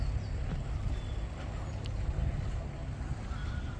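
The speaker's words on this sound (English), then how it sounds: "This is Ruby, a lovely boat coming in." A motor boat named Ruby comes in on the Norfolk Broads, its low engine rumble steady and fairly close with wind and water noise over it, no talking.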